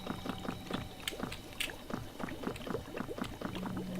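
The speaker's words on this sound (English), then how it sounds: "What's the bubbling?" Liquid in Eldritch bubbles from below the player, gurgling and popping in quick, irregular bursts. The bubbling is steady and fairly faint and carries through the whole stretch with no talking.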